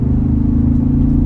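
A 2024 Ford Bronco engine holding a deep, steady, loud rumble up close, a low throaty drone that carries evenly through the short moment.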